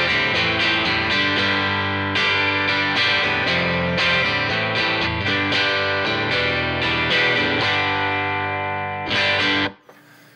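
Distorted electric guitar played through a Suhr Reactive Load with a Celestion A-Type cabinet IR blended with a stereo pair of room mics at a darker mic position; sustained chords and riffs ring loud and continuous, then cut off near the end.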